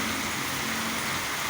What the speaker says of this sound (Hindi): खूब तेज़ बारिश हो रही है।